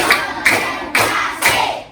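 A group claps along to a rhythmic clap chant, four loud, evenly spaced bursts of many hands striking together at close range, each ringing out briefly before the next.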